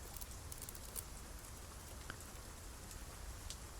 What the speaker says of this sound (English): You guys wake up to the sound of heavy pouring rain, still constant outside.